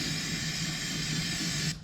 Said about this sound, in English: We'll squirt some starting fluid in here.